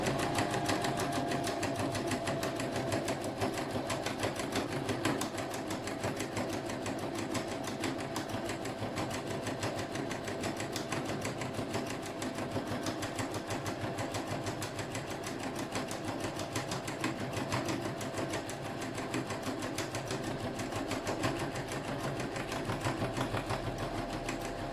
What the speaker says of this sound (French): je vais coudre mes quelques centimètres qui me restent d'ouverture